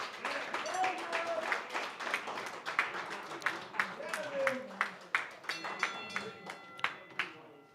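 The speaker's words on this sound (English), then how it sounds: "how about a round of applause to both these fighters?" Crowd applause for two boxers at a boxing showcase, starting as a scattered patter and settling into a few distinct, rhythmic claps that stand out clearly, with talk and voices mixed in around them.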